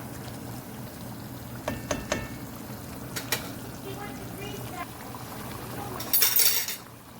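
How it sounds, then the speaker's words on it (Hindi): A spoon stirs chicken karahi in a pan, soft scrapes and clinks over a low sizzle, with a brighter burst of sizzling near the end. "इसके साथ हम अपना ये जो चम्मच है वो चलाएंगे।"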